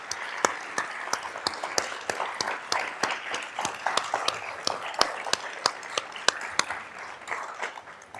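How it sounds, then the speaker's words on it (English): An audience claps for a speaker at an economic outlook event, giving sparse, distinct individual claps rather than a dense roar, steady and moderately close throughout. "Let's give Mary a great round of applause."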